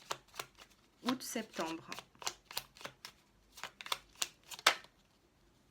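Tarot cards shuffled and laid down in a reading, a run of crisp riffling flicks and soft slaps with short pauses between, close by, with someone talking over parts of it.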